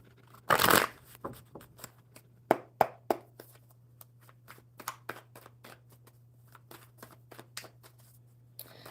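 A deck of playing cards is shuffled at a live card session: one loud close riffle burst, then a run of light, quick card taps and snaps over a faint steady hum.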